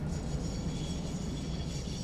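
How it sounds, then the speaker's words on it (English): Train air-brake flaps deploy in the Satisfactory video game, heard as a steady mechanical rail rumble with a faint airy hiss, continuous and fairly loud with no voices. "I like when the flaps open on the top of the train to slow you down."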